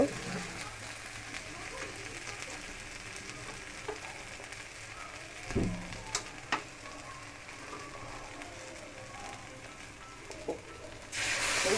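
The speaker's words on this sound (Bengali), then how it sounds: "গরম জল দিয়ে দিলাম" Potato and a masala of cumin, ginger, onion and garlic sizzle and fry in a pan with a steady hiss, broken by a few scraping knocks, before a sudden loud rush near the end as hot water is poured in.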